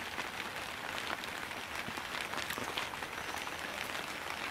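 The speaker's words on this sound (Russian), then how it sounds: "Так он после 3 и начался дождь." Steady rain patters densely on a surface nearby, a continuous hiss of drops with no voices.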